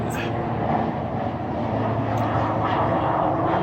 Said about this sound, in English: There's a plane flying by. It's not a chemtrail plane, it's a small passenger plane.